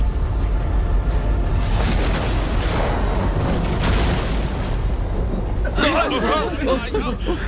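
A dubbed animated scene erupts in a loud, broad explosion that rumbles on for several seconds, with excited voices and a bright crackling tail near the end.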